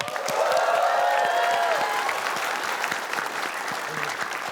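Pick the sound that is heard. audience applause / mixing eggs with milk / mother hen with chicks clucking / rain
audience applause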